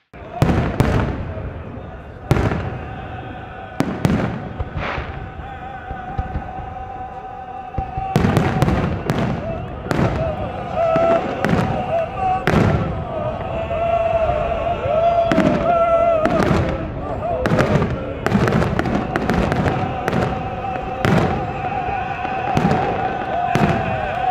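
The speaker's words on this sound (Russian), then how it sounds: "был дан красочный и продолжительный салют" Repeated loud fireworks bursts crack and boom in irregular succession, dense and continuous in the second half, with crowd noise beneath, at a celebration of the Prophet Muhammad's birthday at a mosque in Chechnya.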